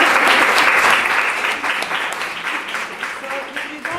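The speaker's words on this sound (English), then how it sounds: "give another round of applause to" Loud, dense audience applause at a contemporary arts event, continuous and close, gradually easing off toward the end.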